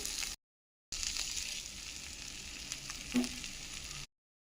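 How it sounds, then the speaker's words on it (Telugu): Peanut chili powder gets stirred into a capsicum fry sizzling in a pan, a steady close frying hiss with a soft scrape or two, briefly cut to silence at the start and end. "ఇప్పుడు మనం ముందుగా రెడీ చేసి పక్కన ఉంచుకున్న పల్లి కారం వేసి కలుపుకోవాలి"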